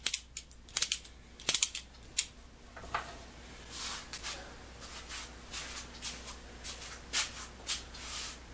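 Weltrecord ratcheting screwdriver driving a screw by hand, producing a run of sharp, close ratchet clicks at first, then softer, irregular clicking and rustling strokes as the turning continues.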